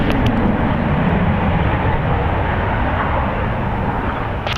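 A Boeing 737-900ER airliner rolling for takeoff at San Francisco International Airport, a loud, steady broadband jet roar that holds constant throughout.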